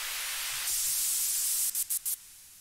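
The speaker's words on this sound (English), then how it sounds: "I found this white noise that is adding up really nicely." A bright white noise sweep rises in a techno drop, a steady hiss that swells after a moment, then cuts out in three quick rhythmic chops before fading to a quieter tail.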